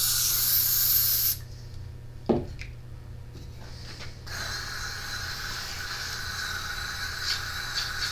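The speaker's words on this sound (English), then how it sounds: "Claude's out there blowing the carburetor out with air" Compressed air hisses loudly as it blasts through a generator carburetor, stopping for a few seconds with small clicks before another long, steady spray resumes.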